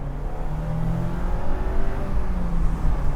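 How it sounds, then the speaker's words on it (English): A 2025 MINI Cooper convertible's engine revs and pulls hard, its droning pitch rising and falling as it accelerates, close and loud with no talking. "the engine just sounds so good here"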